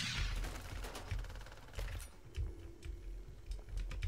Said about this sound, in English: Is the sniper rifle really the best gun in this situation?